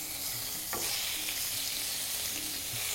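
Marinated chicken sizzles steadily in a hot frying pan, a soft continuous hiss of oil with a light stir or scrape partway through, alone without voices.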